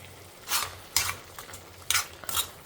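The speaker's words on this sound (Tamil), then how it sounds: "நான் எப்பயுமே கொத்தமல்லி தழை போட்டு வதக்குவேன்." Coriander leaves being sautéed in a pan for aloo pulao, heard as a soft background sizzle broken by several sharp bursts of spatula stirring and scraping against the pan, spaced irregularly.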